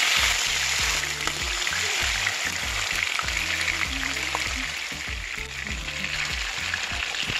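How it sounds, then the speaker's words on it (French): Chicken pieces sizzle in a small amount of hot oil as they are browned for poulet yassa, a steady close crackle with soft music playing underneath. "j'ajoute une petite quantité d'huile et je vais venir rissoler mes poulets"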